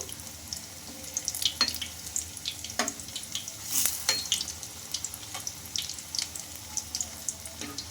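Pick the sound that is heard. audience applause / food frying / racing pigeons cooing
food frying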